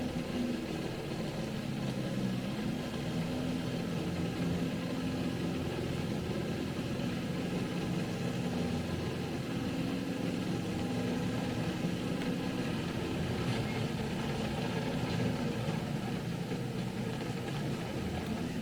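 A tank engine in the War Thunder game drones steadily for the whole stretch, a continuous mid-low rumble with no pauses and no voices over it.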